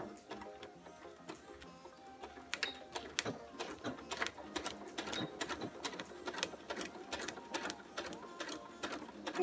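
A sewing machine stitches a seam on a boat-neck top, reversing at the start and end to lock the stitches: rapid, steady mechanical needle chatter in repeated close bursts, with no talking.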